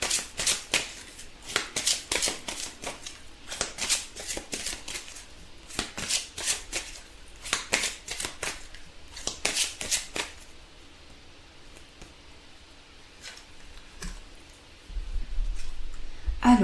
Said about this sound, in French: Alors on tire une carte des anges pour compléter ce tirage.